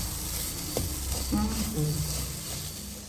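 Spices are dry-roasted in a pan for masala, giving a soft, steady sizzle with a few light stirring scrapes, close and fairly quiet throughout.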